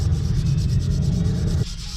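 A brush scrubbing a dirty twenty-year-old Dodge Viper wheel, a close, steady rasping rub that runs for under two seconds before stopping abruptly.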